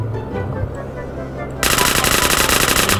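Rapid, loud automatic gunfire in GTA San Andreas multiplayer erupts halfway through, following a stretch of background game noise and ambience.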